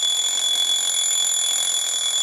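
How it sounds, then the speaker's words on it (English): An alarm clock rings with a continuous, shrill high-pitched electronic tone, steady and loud throughout with no voices. "The alarm clock is source of sound"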